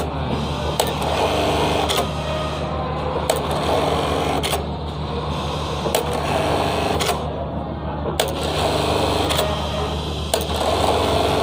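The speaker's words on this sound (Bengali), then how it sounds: "এখানে চাপ দিলে আমার মেশিনটা রান। তো এবার মেশিন চলবে" A Juki computerized sewing machine stitches a programmed circle pattern with a steady, fast mechanical whir, punctuated by regular sharp clicks about once a second, loud and continuous throughout.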